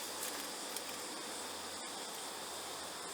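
A swarm of honeybees settling into a hive box hums in a steady, soft, continuous drone, close by and unbroken, with a faint rustle partway through.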